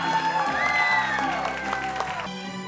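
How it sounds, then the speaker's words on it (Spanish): Guests applaud and cheer at a quinceañera as a father and daughter are introduced, a steady patter of clapping with crowd cheers under a singing or speaking voice that fades near the end. "Let's give a round of applause."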